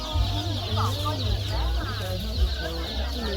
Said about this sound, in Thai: ลูกไก่แล้วก็ลูกเป็ดนะคะ